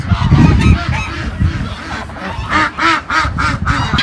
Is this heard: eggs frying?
no